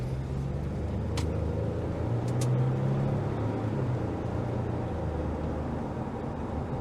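A 2022 Ford Expedition Max XLT SUV cruising on the road, a steady low engine and tire rumble with road noise heard from inside the cabin, continuous and even throughout.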